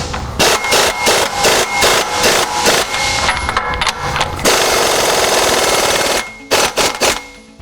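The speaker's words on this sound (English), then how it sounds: "I'm gonna go ahead and tighten up my passenger side." Truck wheel bolts on the passenger side are run tight with an impact tool in loud, rapid rattling bursts, then a sustained buzzing stretch and a few final short hits.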